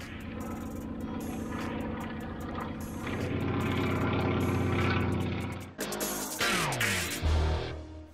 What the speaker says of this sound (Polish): tutaj co chwilę przelatuje właśnie taki mały samolot i wyrzuca ludzi ze